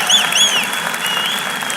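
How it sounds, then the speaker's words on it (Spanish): A church congregation applauds together in a steady, even wash of clapping, with faint high whoops or cheers rising briefly over it near the start. "fuerte, fuerte ese aplauso para el Señor por la vida de Julito"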